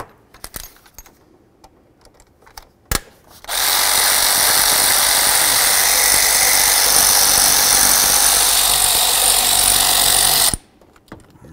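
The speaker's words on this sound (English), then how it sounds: "Let's move along to the mounting bolts using an 8mm." A power tool runs in one loud, steady burst of about seven seconds while 8mm throttle body mounting bolts are removed on a 2005-14 Ford Mustang, with a few clicks and clinks before and after.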